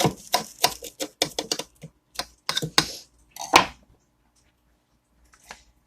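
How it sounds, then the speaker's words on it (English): Knife cutting through crisp toast diagonally, a quick burst of close crunchy crackles and taps followed by a few sharper cuts, then near silence with one faint final tap. "I'm going to cut this toast right in half on the diagonal."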